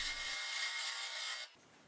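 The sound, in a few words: wood turning on a lathe with carbide chisel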